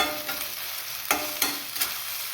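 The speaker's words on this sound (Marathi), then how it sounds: "एक चमचा अद्रक लसणची पेस्ट आपल्याला टाकायची त्याच्यात. मोठ्या आचेवरच फ्राय करायचं आहे." Ginger garlic paste frying in oil on high heat, a loud, constant sizzle with three sharp scraping stirs of a utensil against the pan, close up and without speech.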